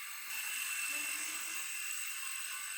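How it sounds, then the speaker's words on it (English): A high, steady whine of a drill with a twist bit boring a hole, constant and close, running without interruption. "Now for drilling the hole, I'm starting with a twist bit."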